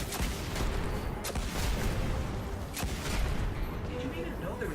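Scorch Cannon fire in the video game Destiny, a few heavy booming blasts against Fallen enemies amid dense continuous battle noise, under a player's commentary.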